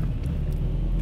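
A turbocharged car engine runs steadily on a dyno, a loud, continuous low rumble with no speech over it.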